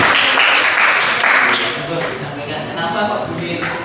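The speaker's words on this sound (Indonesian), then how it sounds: "Beri tepuk tangan dulu." Applause from a classroom of students during a group discussion, a dense burst of clapping that fades after a couple of seconds, with speech over it.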